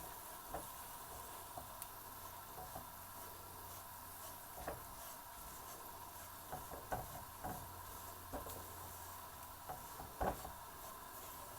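Flour (atta) roasting on low heat in a pan, a very faint steady sizzle with soft scraping stirs and occasional light clicks throughout.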